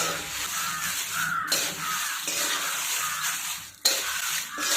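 Dried red chilies frying in a little oil in a pan, a steady close sizzle with a few stirring scrapes and a sharp clatter near the end, no voices.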